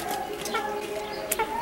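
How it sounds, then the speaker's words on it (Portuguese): A backyard chicken clucks softly in the near distance during a sunny outdoor family moment, with short bird calls breaking over steady ambient background noise. "O que essa galinha vai fazer?"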